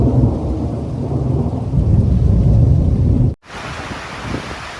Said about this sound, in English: Lots of lightning right now, raining.